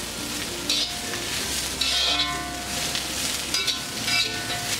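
Ginger chicken with spring onion stir-fries in a pan, giving a steady sizzle broken by repeated bursts of stirring and scraping.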